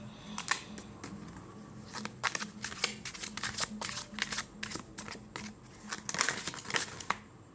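Tarot cards are shuffled and handled close by, a soft series of papery riffles and slaps in irregular bursts, fairly quiet, with no talking.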